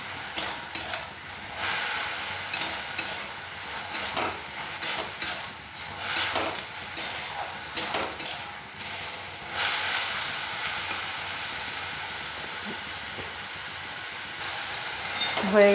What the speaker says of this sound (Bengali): জলটা শুকানো পর্যন্ত ভাজতে হবে